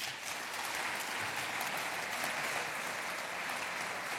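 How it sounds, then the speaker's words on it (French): An audience applauds after a talk on the work ethic at the close of a long conference day, producing a steady, even wash of many clapping hands at moderate distance throughout. "Je vous remercie d'applaudir Antoine Dresse"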